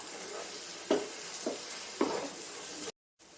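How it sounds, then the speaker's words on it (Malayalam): Three scraping stirring strokes of rice roasting in a pan for ghee rice over a soft, steady sizzle, ending in a brief silence. "ഗ്യാസ് സ്ലോ ആക്കാണ്ട് തന്നെ നന്നായി ഇളക്കി വറുത്തെടുക്കാം"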